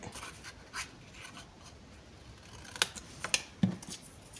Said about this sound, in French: Donc déjà on va couper et biseauter légèrement